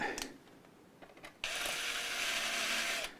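Screws are driven into a Fender MIM Classic Player 60s Stratocaster guitar, with a few small clicks and ratcheting ticks and then a sudden sustained loud whirring of a power driver running close by.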